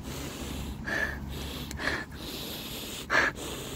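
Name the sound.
sniffing a flower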